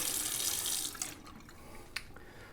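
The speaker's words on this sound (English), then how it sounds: "Got my sink in front of me. Rinse out the hair that's on the razor." Sink tap water rinsing beard hair off a razor, a steady close rush that eases off partway, with a couple of small clicks near the end, no talk.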